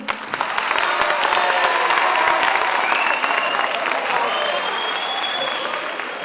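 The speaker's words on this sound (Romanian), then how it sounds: "Aplauze!" Audience at a high school freshman ball applauding after the twelfth-grade waltz, sustained clapping from a large crowd with a few cheers, building quickly and holding steady.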